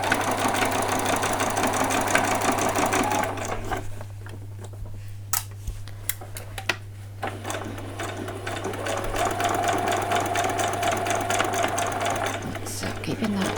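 A sewing machine stitches denim doll jeans in a steady rapid whir, running forward, pausing briefly with a few clicks as the fabric is reversed for a back stitch, then running again at an even pace.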